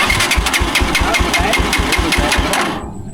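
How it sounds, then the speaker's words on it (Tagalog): A wet Rusi motorcycle engine cranks and chugs in a steady run of loud, rhythmic pulses, then cuts out abruptly just before the end, leaving near silence. "titingnan pa natin kung aandar pa ito gawa ng napakahirap i-start mga ka-travelers pagka nabasa"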